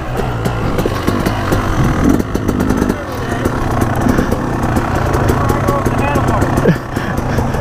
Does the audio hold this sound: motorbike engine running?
yes